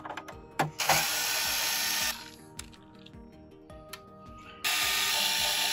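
A small power screwdriver backing screws out of a PS5 Slim console board, whirring in two loud bursts close by with faint clicks and handling between, no talking.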